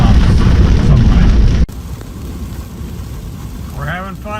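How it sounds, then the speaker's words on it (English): Heavy rain drums on a Ford F-150 Lightning electric truck while driving, a dense, loud roar that drops to a softer steady patter partway through, with a voice briefly heard near the end. "it has been pouring cats and dogs the whole way down here"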